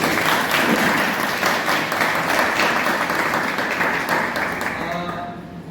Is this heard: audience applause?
yes